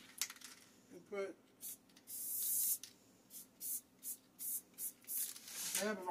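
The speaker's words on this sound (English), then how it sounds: "dab of our basting spray on there." Basting spray is sprayed onto a toilet paper roll in quick short bursts, a run of crisp hissing puffs in a steady rhythm after a longer first spray, with some handling noise.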